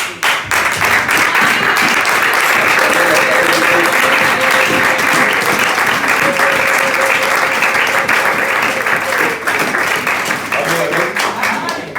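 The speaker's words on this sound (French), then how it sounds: "nous allons acclamer la parole de Dieu" A church congregation applauds during a Sunday service, a dense, loud, sustained wash of clapping with voices mixed in throughout.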